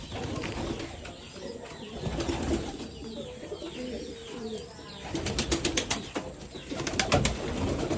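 Pigeons in their loft give soft, repeated throaty coos close by, mixed with faint chirps, shuffling and a few rapid clattering bursts, with no talk.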